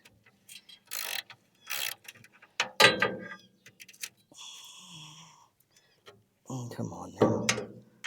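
A hand tool works a bolt loose on a wheelbarrow handle, giving intermittent ratcheting clicks and metallic scraping in short bursts, with someone speaking briefly in between.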